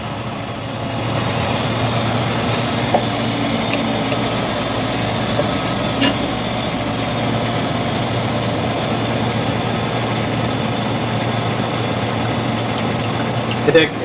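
A juice press machine crushes grass through a strainer to extract juice at a New York juice stand in Astoria, giving a steady, continuous mechanical drone that runs close and even throughout.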